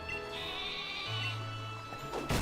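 A Wooloo sheep Pokémon in Pokémon Sword gives a drawn-out wavering bleat, loud and close, ending in a brief burst of noise.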